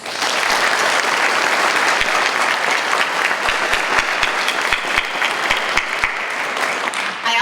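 Loud, sustained audience applause fills a graduation ceremony for an adult education and literacy center, steady dense clapping from start to finish with no talk over it.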